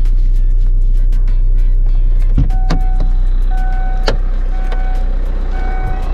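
Kia Carnival diesel engine idling with a loud, steady low rumble close by, while scattered clicks and short tones sound over it.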